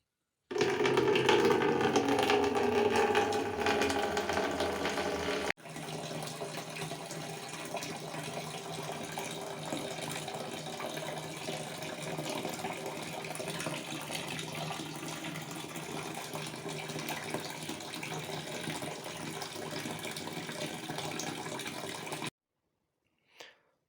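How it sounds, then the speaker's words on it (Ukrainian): Tap water running into a bucket indoors, a steady, continuous rushing and filling sound that is louder at first, then settles into a constant flow for about twenty seconds before stopping abruptly. "я беру ось таке відро і зараз наберемо туди воду"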